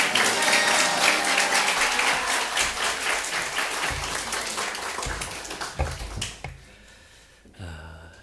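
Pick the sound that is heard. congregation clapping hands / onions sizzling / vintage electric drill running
congregation clapping hands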